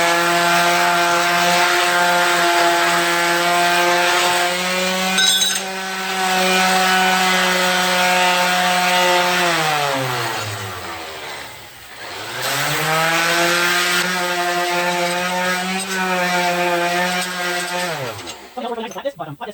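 A motor-driven sander with 80 grit paper works on metal for a hidden tang clamping jig. Its loud whine winds down partway through, then spins back up and runs on before cutting off.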